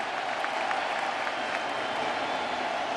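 A World Series crowd at a baseball stadium, Astros against Nationals, cheering and clapping in a steady, dense roar that holds at an even level throughout, with no break.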